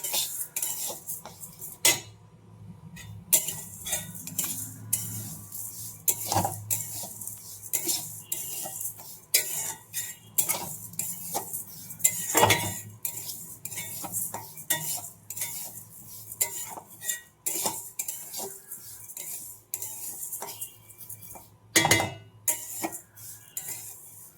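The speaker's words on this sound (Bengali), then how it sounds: "ভালো করে নেড়ে নেবো কড়াই" A utensil scrapes and clinks against a metal wok over and over in an uneven rhythm as whole masoor lentils are stirred, close up, with a faint sizzle underneath.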